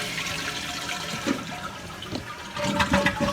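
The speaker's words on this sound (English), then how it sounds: "We'll give it another flush." A rebuilt household toilet flushes after a valve adjustment, a steady close rush of draining water swelling louder near the end as the tank empties, with no voices.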